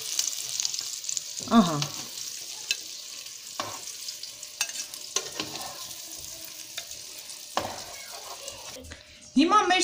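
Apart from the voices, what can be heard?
eggplant slices frying in a pan with little oil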